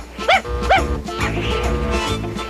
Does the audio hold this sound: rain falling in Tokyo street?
no